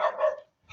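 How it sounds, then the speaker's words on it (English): A small dog barks at another dog across an outdoor road, a single short bark close to the microphone, then quiet. "do excuse the barking"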